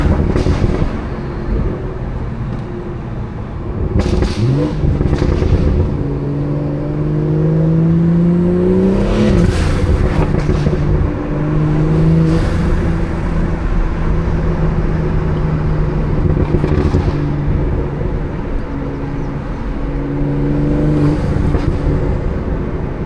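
A 500 whp BMW B58 engine in a car on a daytime drive, revving up and down in several rising pulls with crackling burbles and intake whoosh between them, loud and close from inside, no talk.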